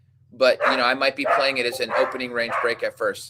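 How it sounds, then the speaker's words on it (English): A dog barks and yips indoors in short bursts, close by, under someone talking steadily over it. "Excuse the dog"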